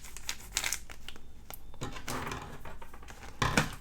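Paper being cut for a junk journal page, heard up close as crisp crinkling and rustling with a few sharp snips, about four seconds of handling and no voices.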